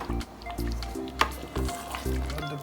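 Prawns sizzle as they go into a pan of sauce for linguine, a steady close frying hiss broken by short bursts of sharper crackle and a few soft liquid squishes.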